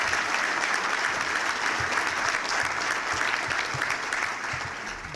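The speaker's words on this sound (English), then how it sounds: "Let's have a round of applause for all of them." Applause from a sold-out chamber breakfast audience honoring Wesleyan University coaches and the athletic director, dense steady clapping across the room that fades slightly at the end.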